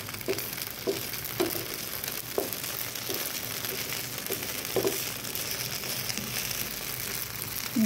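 Sabudana thalipeeth batter fries on a hot tava, giving a steady close-up sizzle with a few soft taps and crackles and no talking.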